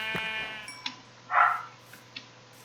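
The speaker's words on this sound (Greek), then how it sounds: "να και ένα πρόβατο" Sheep bleat from the video game Minecraft, a single wavering bleat in the middle, clear and moderately loud, surrounded by faint clicks and soft game sounds.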